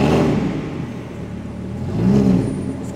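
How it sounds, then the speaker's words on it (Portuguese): Car engine held at rising revs in a garage-like setting, a steady mid-pitched roar with a swell near the end, close and loud with no talk. "Vou acelerar pra acelerar, parece."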